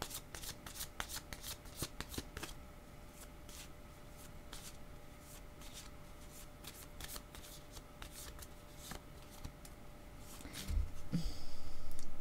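A deck of playing cards is shuffled at close range, with a quick series of riffles and snaps before a card is drawn and a louder handling rustle near the end, with no talk.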